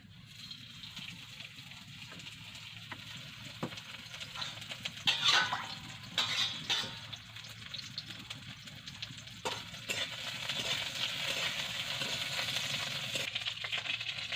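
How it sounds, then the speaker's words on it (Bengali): Oil goes into a hot kadai in a home kitchen, bringing light clinks and splashes and then a steadily rising sizzle, with occasional speech in the background. "কড়াইটা গরম হয়ে গেছে, তেল দিবে এবারে।"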